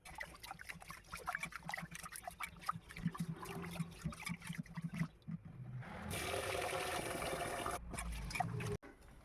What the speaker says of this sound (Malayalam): അപ്പോൾ ഇനി അരി ഇടട്ടെ കേട്ടോ